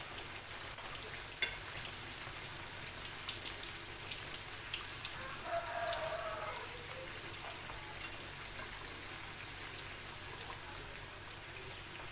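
Raw Turkish börek pastry fries in a pan with a soft, continuous sizzle and faint crackling, fairly quiet and steady, with no voices.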